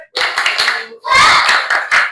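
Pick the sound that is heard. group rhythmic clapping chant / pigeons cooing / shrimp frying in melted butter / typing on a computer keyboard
group rhythmic clapping chant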